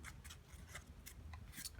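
Scissors snip paper at an oblique angle while a paper pyramid is being made, producing about five quick, faint crisp cuts spaced irregularly, close up and quiet, with no talking.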